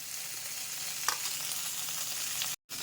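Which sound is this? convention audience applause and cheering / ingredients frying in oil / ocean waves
ingredients frying in oil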